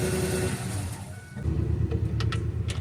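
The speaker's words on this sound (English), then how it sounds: "That is the engine up and running right there with no problem." Ford F-150 engine idling steadily at close range, a continuous low rumble with faint ticking, growing slightly louder midway as work goes on nearby.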